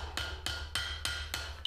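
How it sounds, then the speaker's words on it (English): A 3/4 pound tanner's hammer strikes hot steel while forging a fire poker, six evenly spaced ringing blows on the anvil in a steady rhythm, quite close, over a low forge rumble. "So now I'm using like a 3/4 pound tanner's hammer because hammer selection is important here."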